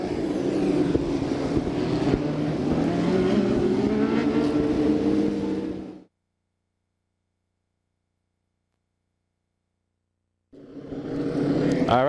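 Midget race cars racing at Bakersfield, a loud, continuous engine roar with rising and falling pitch as cars pass close by, cutting to a long silence midway before the engine noise returns.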